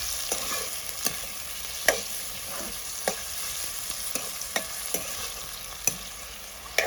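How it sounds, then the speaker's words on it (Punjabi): Tomatoes frying in a pan for a bread snack, with a steady hiss of oil and sharp spoon scrapes and clinks landing at irregular intervals, close and moderately loud, with no voices. "ਹੁਣ ਇਹਦੇ ਵਿੱਚ ਆਪਾਂ ਪਾ ਲੈਨੇ ਆ ਟਮਾਟਰ ਟਮਾਟਰਾਂ ਨੂੰ ਵੀ ਆਪਾਂ ਚੱਕ ਲੈਨੇ ਥੋੜਾ ਜਿਹਾ"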